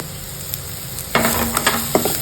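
Coriander heating in a hot pan while making a spicy papad chutney gives a steady close sizzle, joined near the end by a few sharper crackles and stirring clinks.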